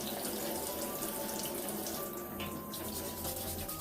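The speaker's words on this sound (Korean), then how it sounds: "이렇게 가볍게 흐르는 물에 이렇게 씻어주세요" Running tap water streaming steadily into a sink as fermented soybean blocks for making soy sauce are rinsed, a continuous close splashing flow without pause.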